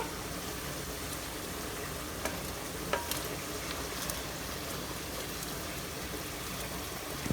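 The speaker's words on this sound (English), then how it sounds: "Need to fry the onion a little bit" Onions frying in a pan for chicken dum biryani, a continuous soft crackling sizzle with a few sharp pops and spatters scattered through.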